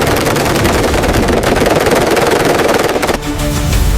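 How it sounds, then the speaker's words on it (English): Rapid, continuous jet cannon fire rattles loud and dense for about three seconds in a video game dogfight between an F/A-18 and an F-16, shooting down a missile, then cuts to a ringing mechanical roar. "shooting down a missile with a cannon."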